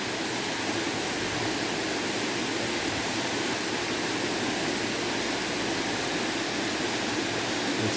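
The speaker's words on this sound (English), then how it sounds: "you hear the waterfall" A waterfall roars in a constant, dense wash of rushing water, loud and unbroken throughout with no voices.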